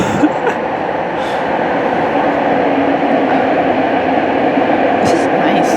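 Steady loud rumble and rattle inside a moving subway train, a continuous roar of wheels on track with faint high squeals, heard from within the car.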